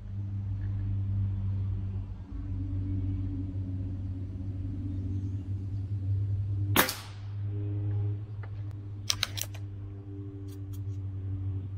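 A Crosman Quest 1000x air rifle fires one sharp, loud crack of a Premier Hollow Point 7.9-grain pellet over a steady low engine-like hum, followed moments later by a few faint, distant ticks of pellet impacts on the target.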